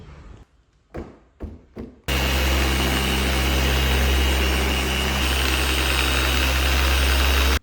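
A few handling knocks, then a machine polisher starts up on the paintwork of a Ferrari 296 and runs as a loud, steady droning whir to the end.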